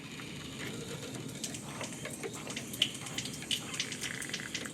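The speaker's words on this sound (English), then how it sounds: "make sure water is getting to the cartridge, and as you can hear, there is some water that are coming through there" Water running through a newly installed faucet cartridge after the supply stops are opened, a steady, low hiss and trickle with faint spattering, alone and at moderate level.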